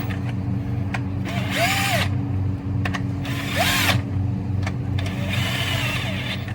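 An impact gun tightens lug nuts on a Corvette C5 wheel in three loud, close, rattling bursts of a second or so each, separated by a low idling hum and small clicks.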